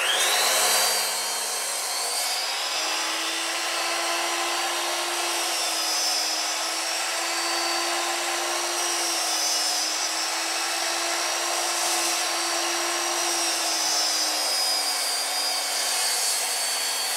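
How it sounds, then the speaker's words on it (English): Power saw tilted to a 5-degree bevel cutting wood stock for wainscoting and paneling, a steady continuous whine held close and loud for about fifteen seconds after a brief start. "I'll set the saw now at 5 degrees"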